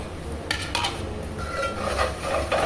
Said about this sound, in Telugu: దీన్ని మంచిగా కలుపుకుందాం